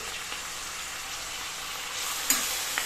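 Green chillies, curry leaves, mint and coriander sautéing in a pan give a steady close sizzle, with a sharper crackle and a stir near the end and no voices.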